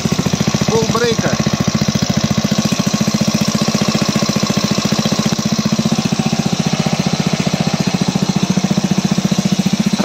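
A carburetted Stels Kapitan engine, freshly overhauled in a tent after an air leak was fixed, runs close by on leftover petrol with a steady, even, loud idle throughout; a brief voice is heard near the start.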